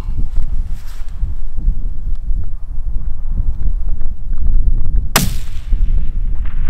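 Rifle fired while hunting mule deer in Montana, one sharp, loud gunshot cracking out late over constant heavy wind buffeting the microphone outdoors.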